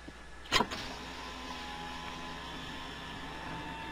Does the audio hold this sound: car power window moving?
yes